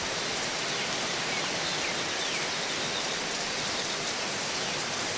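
Heavy rain pours steadily, a dense, even hiss of drops hitting surfaces that fills the whole stretch without pause, close and continuous with no voices.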